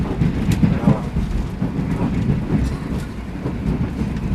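A low, heavy rumble of a new Ballarat line train in Victoria, Australia, rolling past nearby, with rhythmic clatter over a constant roar.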